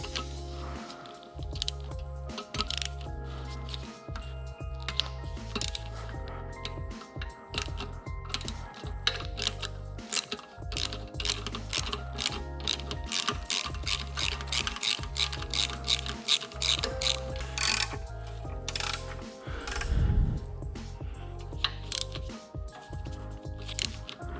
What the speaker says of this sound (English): You can unbolt the clutch pressure plate from the flywheel, going through this hole right here, using a 12 millimeter short socket on one of these little floppy extensions here